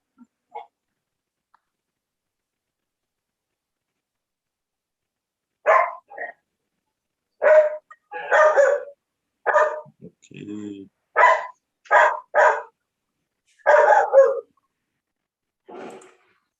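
A pet dog barks repeatedly at close range in short bursts spread over several seconds, interleaved with a person speaking nearby.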